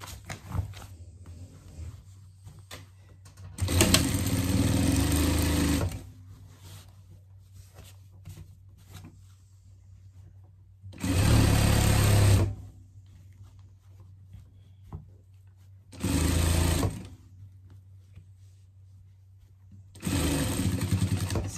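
A sewing machine stitches a hot-dog-shaped pet bed in four separate bursts of steady mechanical whirring, each a few seconds long, with quiet pauses between them.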